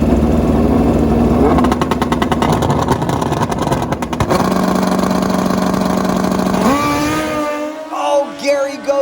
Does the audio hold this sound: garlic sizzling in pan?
no